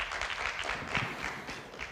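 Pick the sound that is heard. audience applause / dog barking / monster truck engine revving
audience applause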